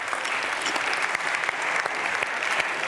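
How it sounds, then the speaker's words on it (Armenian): Audience applause at an Armenian comedy show, a continuous round of many hands clapping at moderate volume, sustained throughout with no pause. "Ծափարենք նրան,"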